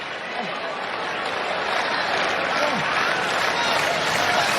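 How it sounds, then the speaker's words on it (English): A WWE SmackDown arena crowd at a Ricochet vs Mustafa Ali World Cup match cheers and applauds in a steady, dense wash of noise that holds throughout without a break. "WWE fans cheering, showing respect for both men in this match"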